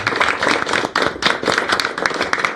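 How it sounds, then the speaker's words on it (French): Studio audience clapping on a French talk show, dense and steady for nearly three seconds with a few voices mixed in. "On peut applaudir, s'il te plaît"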